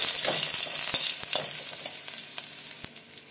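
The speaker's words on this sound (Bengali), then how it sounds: "সর্ষের তেল দিচ্ছি, দেবো ফোড়নে একটা শুকনো লঙ্কা, 4 কোয়া রসুন দিলাম।" Dried chili and crushed garlic sizzle in hot mustard oil, a steady crackling fry with sharp spatters and a few stirring knocks throughout, fading slightly toward the end.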